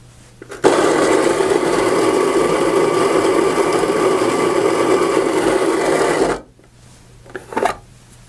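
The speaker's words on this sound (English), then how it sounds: "we're going to recommend that you grind a few ounces of coffee through your machine first, just to clear things out and season it a little bit" Baratza Encore burr coffee grinder grinding a few ounces of coffee beans, a steady loud whirring run of about six seconds that stops abruptly, followed by light handling clatter.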